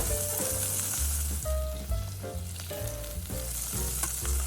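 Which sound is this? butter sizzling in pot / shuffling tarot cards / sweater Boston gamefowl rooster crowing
butter sizzling in pot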